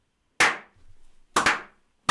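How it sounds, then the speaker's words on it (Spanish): Applause in a podcast studio: three sharp, loud claps, each with a short ringing tail, about a second apart, with no talking between them. "dalo y luego aplauso americano"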